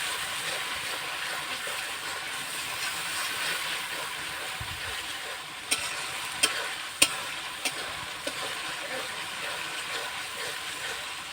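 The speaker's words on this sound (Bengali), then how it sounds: "এখন আমি এটাকে কষাই নেব সুন্দর করে।" Shoal fish sautés in oil in a pan, cooked with potato and bitter gourd, giving a constant close sizzle broken by a few sharp scraping clicks as it is stirred.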